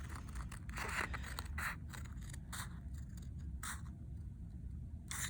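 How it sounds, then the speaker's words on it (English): Scissors cutting through sketchbook paper, the book flipped to cut from the other side: a series of soft, close, rhythmic snipping and scraping strokes over a quiet background, with no talking. "Flip around, cut from the opposite way."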